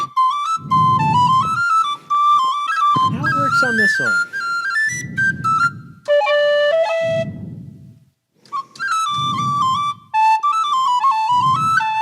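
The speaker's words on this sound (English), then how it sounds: "It's a D whistle is what they're giving you to get the higher notes." A D tin whistle plays a lilting Irish tune in bright, clear phrases of quick ornamented notes, up close and loud, with brief pauses and a short spoken interjection partway through.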